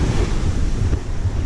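Rough waves crash and churn continuously on a beach at Cape Leveque, Dampier Peninsula, while strong wind buffets the microphone, a loud, steady roar of surf with no voices.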